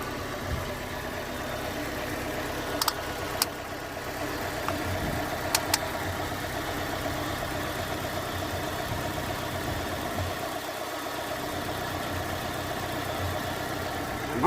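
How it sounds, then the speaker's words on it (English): A Ford KA Limited Edition 1.2 petrol engine idling with a suspected misfire: a steady, close mechanical drone that runs throughout, marked by a few faint clicks and knocks. "I'm actually not sure if this is a misfiring"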